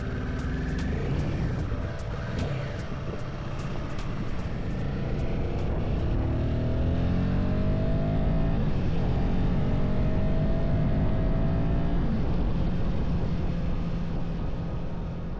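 A Royal Enfield Himalayan 450 motorcycle rides along a road in the Utah mountains, giving a steady, loud engine drone with shifting pitch sweeps as it changes speed, accompanied by constant wind rush.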